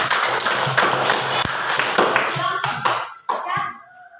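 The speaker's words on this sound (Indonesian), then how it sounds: "Iya, tepuk tangan." Children in a Catholic religion class clap their hands together in a quick burst of overlapping claps, with young voices talking around it before it fades out.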